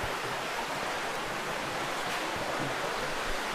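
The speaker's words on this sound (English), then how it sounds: "And the creek flows through the cave down here." A creek runs through Indian Rock House Cave in Arkansas, producing a steady, close rushing hiss of flowing water that fills the space evenly with no break.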